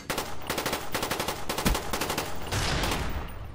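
Automatic rifle fire in Call of Duty: Black Ops, with a quick run of evenly spaced close shots, a short pause, then a denser sustained burst near the end.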